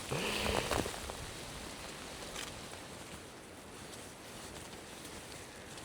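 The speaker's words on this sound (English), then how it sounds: "I'm getting absolutely pummeled by rain." Heavy rain pelting down over an open field of yellow crops by a tree, a dense, steady hiss of drops close around, with a brief bumping at the start.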